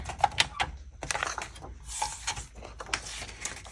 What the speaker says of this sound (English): And now I'm going to grab my paper trimmer. And I'm just going to cut where those lines are.